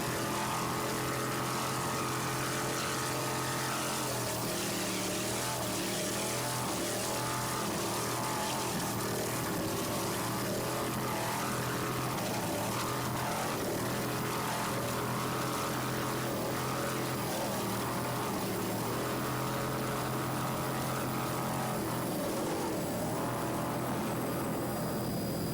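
An offshore racing powerboat at the 1993 Islamorada Budweiser 100 race drones continuously with a loud, sustained engine roar and water noise, steady throughout with no talking.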